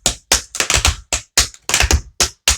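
Tap shoes strike a hard floor in a series of about eleven sharp, close, percussive steps and shuffles in an uneven rhythm, part of an advanced beginner tap routine to a pop song.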